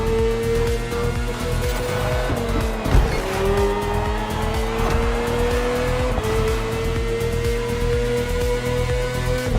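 A BMW S1000RR superbike being ridden produces a loud, continuous high-revving engine whine, its pitch dropping and climbing again at gear changes around the third and sixth seconds.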